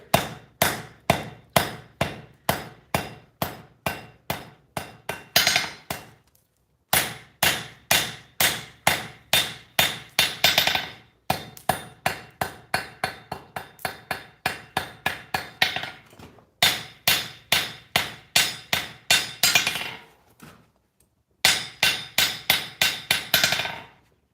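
Rhythmic hammer blows on hot metal as a taper is forged in a smithing shop, loud close strikes in fast bursts of about a dozen with brief pauses between runs.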